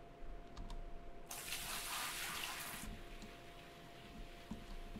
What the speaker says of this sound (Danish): det er fordi, der render vand igennem